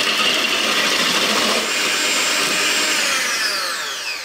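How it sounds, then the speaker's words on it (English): An electric mixer whirs loudly and steadily as it beats egg whites to soft peaks for chocolate cake, a close continuous motor hum with the whisking swish of the bowl, easing off slightly toward the end. "all we need to do is beat up our egg whites until they're nice"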